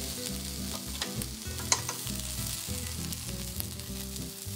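Pork and tofu meatballs frying in an uncovered pan as the last water cooks off, a dense crackling sizzle with bursts of popping, close and steady throughout, with no talking.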